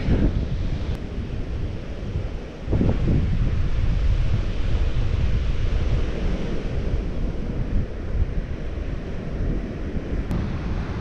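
Baltic Sea waves roll and break on the shore, a loud continuous surf roar with heavy wind buffeting the microphone throughout.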